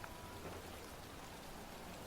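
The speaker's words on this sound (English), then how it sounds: "What if the rain just fucking stopped for once?" Steady rain pours in the video game Heavy Rain, a soft, even hiss of falling water that fills the whole stretch without pauses, fairly quiet and with no voices over it.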